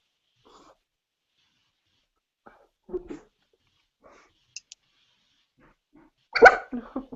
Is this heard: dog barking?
yes